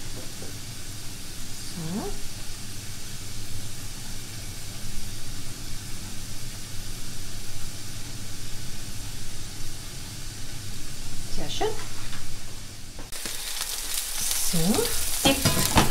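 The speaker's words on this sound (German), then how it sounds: "Da habe ich mir jetzt in meiner Eisenpfanne ein bisschen Olivenöl eingegeben" Steady sizzling and hissing of trout frying in olive oil in an iron pan, continuous and close, with a few faint clinks and a brief louder burst of spitting near the end.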